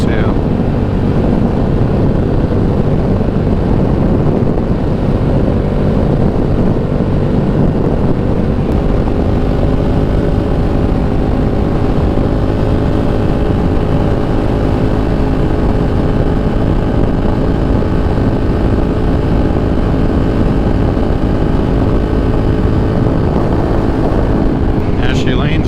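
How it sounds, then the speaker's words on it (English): KTM Super Duke motorcycle engine droning steadily and loud throughout while riding through a canyon, a continuous rumble with slight pitch shifts and wind buffeting. "Love the way this bike sounds too."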